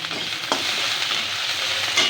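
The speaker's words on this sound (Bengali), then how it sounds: "পেঁয়াজটাকে একটু ভাজা ভাজা করে নেব" Sliced onion with slit green chillies sizzles steadily in hot oil for a spiced egg curry, a close, continuous frying hiss broken by two brief stirring scrapes.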